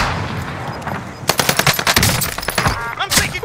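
Rapid automatic gunfire in the video game Warzone bursts out loud and close in quick successive shots after a brief quieter stretch, with faint voices underneath.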